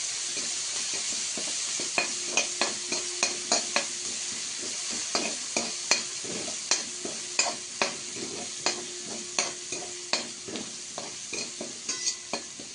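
Ground spice paste (vatan) stirred and fried in a pan, with bay leaf, for veg pulao: a steady sizzle under a dozen-plus regular scraping strokes of the spoon, close and fairly loud, with no talking.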